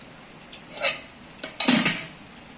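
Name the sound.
rice being served onto a plate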